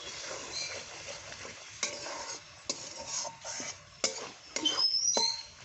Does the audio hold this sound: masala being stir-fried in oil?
yes